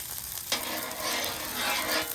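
Oil sizzles steadily on a hot Blackstone propane griddle, a continuous close hiss that swells briefly about halfway through and carries on without pause or voices.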